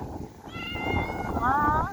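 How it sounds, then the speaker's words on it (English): A kitty at the original Ingalls family homestead site in De Smet, South Dakota gives two rising meows close by, the second stronger, while someone talks softly over an outdoor background. "Oh, what a precious kitty."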